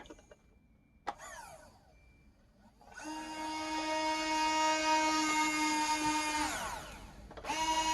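A high whining electronic engine sound from a sound module in a Bruder D11 RC truck conversion starts with a brief rev, then settles into a steady loud drone for several seconds, winds down, and revs up again.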